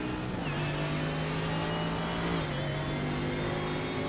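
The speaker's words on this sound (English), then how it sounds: "you hear the beautiful sound of his Mercedes engine" A Mercedes-engined race car in a racing video game revs steadily with a sustained engine drone and a pitch shift midway, loud and continuous with no talk over it.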